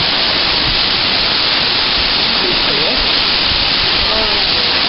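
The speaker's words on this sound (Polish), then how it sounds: "Już jesteśmy na, na wodospadzisku." A mountain waterfall in the Karkonosze range roars as a steady, loud wash of rushing water, with a few faint voices underneath.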